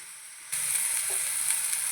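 Drumstick and dry fish mixture frying in a pan, a steady close sizzle that jumps louder after a brief quieter start and holds continuously, with no talk.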